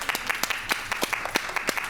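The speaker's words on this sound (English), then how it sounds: "give yourselves a big round of applause" A small group of children in a classical theatre program claps briefly, with scattered individual claps forming an uneven, light rhythm at moderate volume.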